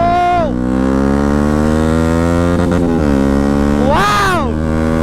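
Motorcycles racing on a road, a loud, close engine drone whose pitch rises and falls as the rider shifts, with another bike's note sweeping past near the end.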